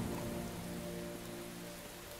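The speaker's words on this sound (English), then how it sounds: "Yikes, it started raining, which is kind of cool, I guess." Steady rain falls in the survival game Len's Island, a constant hiss of drops spattering on surfaces, fairly loud and even throughout, with a low tonal drone beneath it and no voices.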